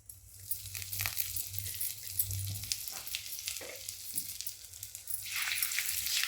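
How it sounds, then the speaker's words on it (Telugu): A tempering of urad dal, red chilli, curry leaves and asafoetida fries in hot oil for a pickle, making a continuous close crackling sizzle with scattered pops that grows a little louder toward the end. "పోపు బాగా వేగనివ్వాలండి"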